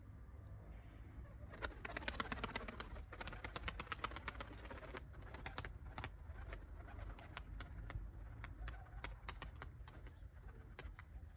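Turkish tumbler pigeons coo softly and repeatedly amid rustling and sharp clicking sounds, with no voices, continuing steadily throughout.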